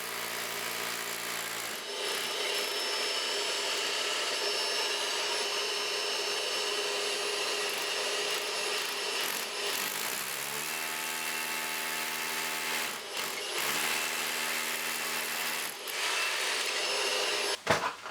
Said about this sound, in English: we can pop that through using a 12mm drill bit